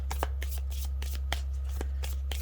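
Tarot cards being shuffled by hand, a close run of quick papery riffles and soft slaps repeating across the whole stretch over a steady low hum.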